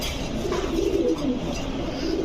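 An Afsan Baga pigeon, a nesting bird in a pigeon shop, gives a few soft, low cooing notes close by over a faint background hum.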